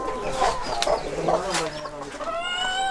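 A hen clucking nearby on a Kerala chicken farm, a few short separated clucks followed by a drawn-out squawking call at the end.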